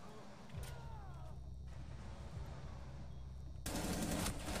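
Rapid gunfire from the PC game Rainbow Six Siege: bursts of shots crackle over steady low game rumble, growing louder and denser near the end.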